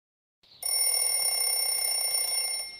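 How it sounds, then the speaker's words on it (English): An alarm clock rings in a steady, continuous electronic tone, loud and close, starting abruptly after a moment of silence and sounding alone for about two seconds. "The alarm clock rings and he wakes up."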